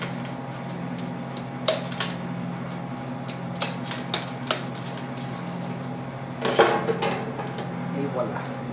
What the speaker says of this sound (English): you're flipping as you're hitting it with the knife